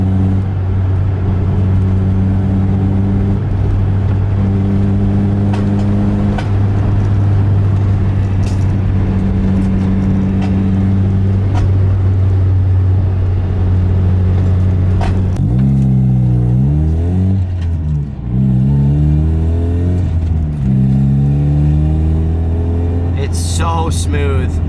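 Mazda Miata driving on the road, its engine droning steadily from inside the cabin, then revving up through gear changes with rising and falling pitch; someone talks over the engine throughout.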